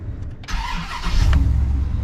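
A 2004 Chevrolet Silverado 2500 HD with the 8.1-liter V8 cranks briefly and catches, settling into a loud, rumbling idle heard up close from inside the cab.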